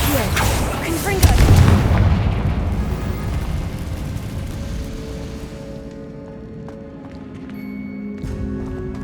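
A Confringo blast spell goes off in the Hogwarts Legacy video game, a loud booming burst near the start that rolls into a rumbling, debris-like decay inside a cavernous room, with a voice speaking over the game sounds.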